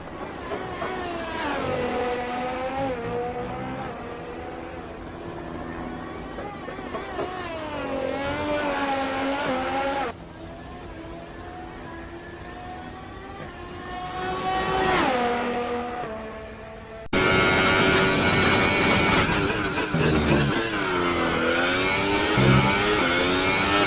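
High-pitched Formula 1 car engines, Ferrari and Mercedes, in the video game F1 2018 scream and rev continuously, rising and falling through gear changes over several passes, loud with no voices.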